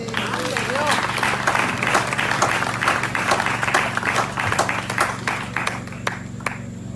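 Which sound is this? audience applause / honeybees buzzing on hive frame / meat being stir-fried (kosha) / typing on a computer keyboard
audience applause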